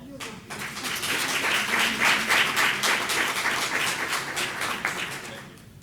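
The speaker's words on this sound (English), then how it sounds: "let's give him another big round of applause, all right?" A school board meeting audience in the Trotwood-Madison City School District gives a round of applause, swelling quickly into a full, sustained wash of clapping that stays strong and then tapers off near the end.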